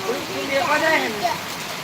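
Heavy downpour gives a constant broadband wash of falling rain, heard steadily beneath a person talking close by.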